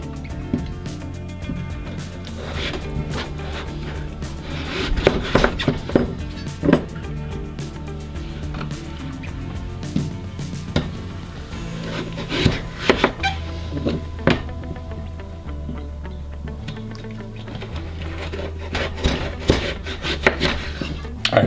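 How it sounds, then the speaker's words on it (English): A knife slices through butternut squash on a cutting board, with a run of sharp, distinct chops and thuds over steady background music. "now, I can go ahead and cut it into like slices like so"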